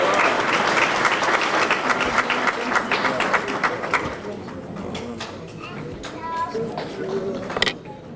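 Banquet audience applauds a scholarship recipient, steady dense clapping that thins and fades over the final seconds, with scattered voices and chatter mixed in near the end.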